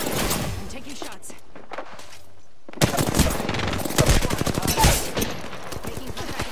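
Gunfire in the Apex Legends video game: rapid automatic bursts and repeated sharp shots, loud and close, with a quieter stretch before heavy firing resumes in the second half.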